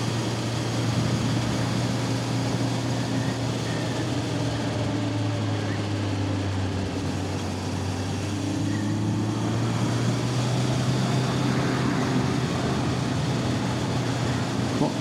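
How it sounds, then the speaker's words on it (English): A Honda Blackbird motorcycle engine runs smoothly at a steady idle, a continuous low, even hum that holds constant and is heard close by. "Bike's running smooth, nice and smooth, as always."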